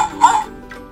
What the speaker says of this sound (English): Do you know the sound that the dog makes?